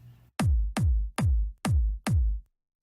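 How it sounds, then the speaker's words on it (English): Five punchy electronic kick drum hits with a low-mid EQ cut, evenly spaced at a steady tempo, each with a deep thumping body and a sharp click, played alone and loud with nothing behind them. "So the kick with the cut sounds like this."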